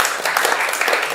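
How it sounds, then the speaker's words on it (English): Brief burst of audience applause closing a panel discussion at a campus event, dense steady clapping filling the whole moment without voices on top. "Big applause."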